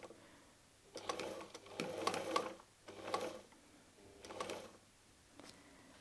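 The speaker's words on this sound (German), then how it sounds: "unsere Nadel ist fixiert und so wird der Stoff einfach von der Nadel gezogen. Und das Ganze läuft gerade unter unserer Maschine durch." A sewing machine stitching fabric for patchwork stars made from jelly roll fabric scraps, its needle running in several short quiet bursts with pauses between them.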